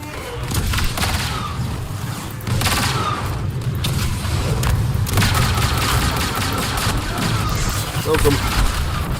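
Battle in Age of Empires III Definitive Edition: a dense, continuous barrage of booming explosions and gunfire, loud and unbroken for nine seconds, with a voice talking over the din.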